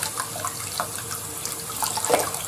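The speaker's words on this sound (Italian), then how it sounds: "ci metto l'acqua all'interno, così lo sciacquiamo" Tap water runs into a shaving brush to rinse it, a steady hissing splash from a nearby faucet with small gurgles and drips throughout.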